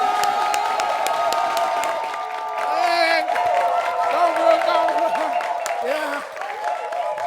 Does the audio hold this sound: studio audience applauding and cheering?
yes